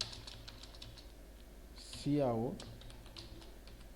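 Computer keyboard typing while writing C++ code, faint scattered key clicks, close and soft, with a brief spoken word over them.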